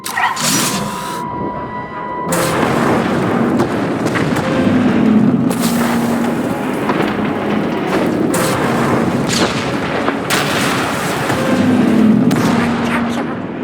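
Weapon fire and heavy explosions in the Star Wars: The Old Republic video game, loud repeated booms and blasts that roll on continuously after a brief mechanical whine.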